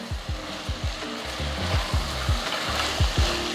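Vegetables such as potato and cauliflower stir-fried for lunch-box variety rice, a steady close sizzle with repeated scraping strokes of a spoon through the pan, no talk.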